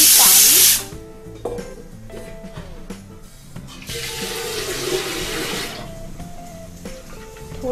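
Tap water runs into a pot in a home kitchen during morning cooking, a steady hissing gush that starts and stops in short bursts, with small clinks of the vessel in between.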